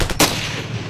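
A sniper rifle shot in the video game Ravenfield: one loud, close, sharp crack with a brief burst of rapid popping just before it, trailing into a rumbling echo over less than a second.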